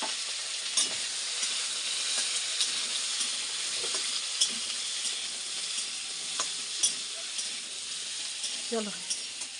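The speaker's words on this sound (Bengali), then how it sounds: "এখন আলুটা ভেজে নিই" Potatoes frying with cumin in oil in a kadai, a steady close sizzle throughout with occasional clinks and scrapes of stirring.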